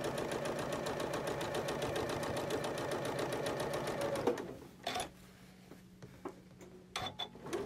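A sewing machine stitches a quilt block straight over pins in a fast, even run of needle strokes for about four seconds, then stops, leaving a quiet room with scattered small handling clicks.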